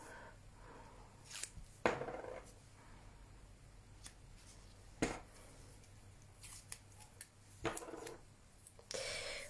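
Scissors snip through paper in a quiet indoor craft setting: scattered faint cuts and rustles with a few sharper snips, soft and close, no talk.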